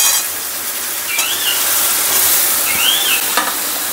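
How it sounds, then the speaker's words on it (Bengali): Vegetables with turmeric, carrot and tomato fry loudly in a pan, a close, bright sizzle crossed by two squeaky spatula scrapes and a couple of sharp knocks. "এবার একসাথে ভালো করে সবকটা ভাজবো।"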